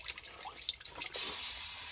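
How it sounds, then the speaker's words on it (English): Water rushes through a household sewer main line toward a septic tank as a soft, continuous hiss with faint drips, growing steadier and fuller toward the end. "can you hear that water running?"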